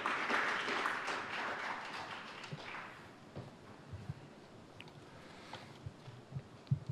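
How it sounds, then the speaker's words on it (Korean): An audience at the opening ceremony of a policy forum on Bidenomics and the Korean economy applauds to welcome a speaker. The clapping starts moderately loud, fades out after about three seconds, and is followed by faint footsteps and taps. "박수로 맞이하여 주시기 바랍니다."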